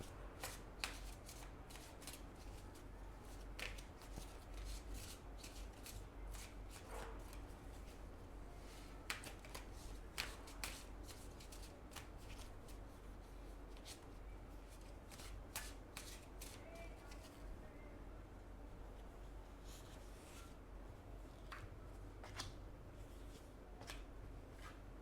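Tarot cards are shuffled close by, a quiet run of quick riffling snaps and soft slides that repeats steadily over a low background hum.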